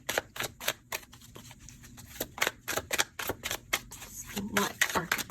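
Tarot cards being shuffled by hand during a reading, a rapid series of soft riffling flicks and slaps in an uneven rhythm, close but fairly quiet, with no talking.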